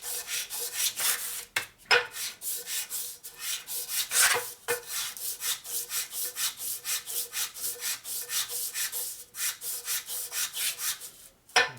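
A 1961 Harley-Davidson Sportster XLCH engine part is rubbed flat on sandpaper in steady back-and-forth strokes, close and loud, with a few brief pauses between passes.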